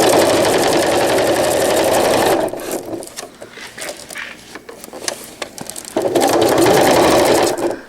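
A sewing machine stitches velcro onto a cloth diaper in two loud, steady whirring bursts, with a quieter pause of small clicks and handling noises between them while the fabric is pivoted.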